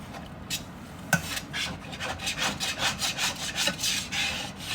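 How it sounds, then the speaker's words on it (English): A spoon scrapes the bottom of a pan holding a cooked roux thinned with spiced apple cider, in steady close rubbing strokes that repeat quickly, with one sharper knock near the start and no talk. "We're going to go ahead and scrape the bottom of the pan."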